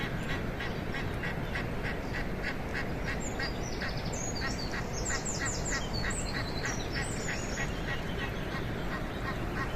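A family of ducks quacks in a noisy cluster of repeated calls through the middle of the clip, over a steady early-morning outdoor background hiss.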